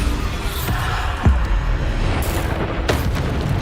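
A Bombarda spell explosion in Hogwarts Legacy, a sharp booming blast with a short rumbling tail amid ongoing combat noise, followed by another whooshing burst.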